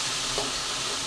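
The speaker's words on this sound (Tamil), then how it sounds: "இப்போ இந்த சாம்பாருக்கு காய் வதங்கிட்டுப்பா" Bitter gourd sautés in oil for sambar, a brief close hiss of frying with a soft stir in the pan.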